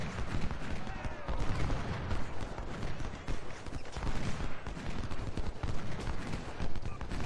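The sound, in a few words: musket volley fire in video game Ultimate General: Civil War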